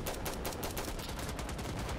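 Gunfire in the video game Insurgency Sandstorm rattles as rapid, dense automatic bursts, heard quietly and continuously like a distant firefight with overlapping shots.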